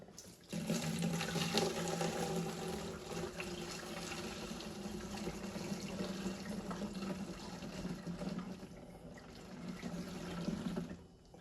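Liquid is poured into an empty container while a bong is being cleaned, making a steady, full splashing rush that runs continuously for about ten seconds before cutting off.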